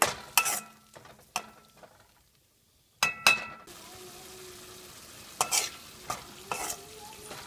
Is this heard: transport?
no